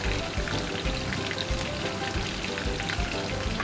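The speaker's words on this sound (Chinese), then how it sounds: "跟住我哋可以同啲涼瓜走一走油啦。" Bitter melon fries in hot oil in a wok, giving a dense, steady crackling sizzle that stays loud and close throughout, with no talking.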